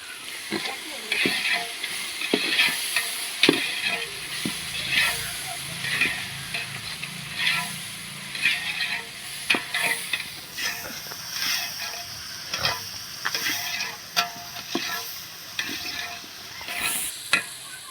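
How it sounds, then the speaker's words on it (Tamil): Ginger and garlic paste stirred and fried in a pot for Chennai-style chicken biryani, a steady close sizzle broken by repeated scraping stirs of a spoon against the pan, with brief speech in places. "இரநூறு கிராம் இஞ்சி இரநூறு கிராம் பூண்டு சேர்த்து அதையும் நல்லா மிக்ஸ் பண்ணிக்கலாம்"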